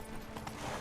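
Horse hooves clip-clopping at a gallop in The Witcher 3, a brief steady run of muffled hoofbeats close by with no voices.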